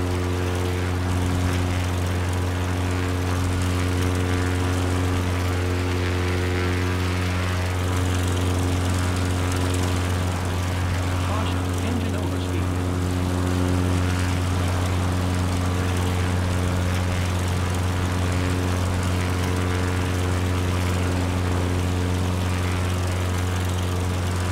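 A steady, loud droning aircraft engine overspeeds in Microsoft Flight Simulator, holding a constant tonal whine throughout with no voices.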